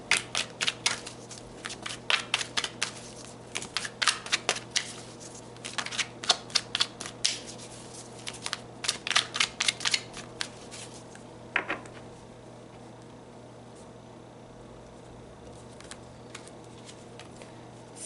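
Tarot cards are shuffled and handled in a dense run of quick, crisp riffling flicks and snaps up close, ending in a single sharp flutter before the room falls quiet.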